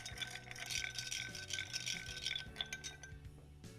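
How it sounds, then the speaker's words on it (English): Ice rattles and clinks steadily against a mixing glass as a martini is stirred with a bar spoon, a continuous close jangle with no talking. "You want to stir this so that it's really super chilled."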